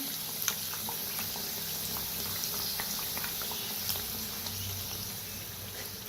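Kachori deep-fry in hot oil on a low flame, giving a soft, steady bubbling sizzle with scattered small pops, fairly quiet and close, with no talking.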